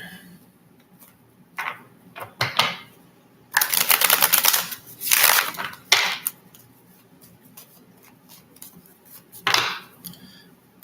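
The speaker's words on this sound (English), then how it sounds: "let me get a good shuffle here." Tarot cards being shuffled by hand, several quick riffling and flapping bursts, some short and some sustained for about a second, separated by near-silent pauses.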